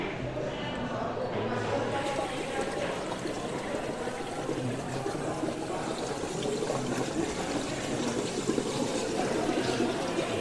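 Refrigerant hisses and rushes steadily out of a car air-conditioning low pressure valve during servicing, a continuous close gushing sound.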